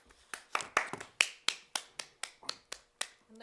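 Sparse, crisp handclaps come from a small meeting audience after a speech, about a dozen sharp claps in an uneven rhythm, close and clear with no talking.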